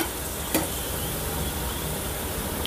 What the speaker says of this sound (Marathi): तर आता आपण पूर्ण तळून घेऊया